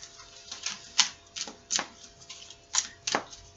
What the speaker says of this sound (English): So let's pull some cards here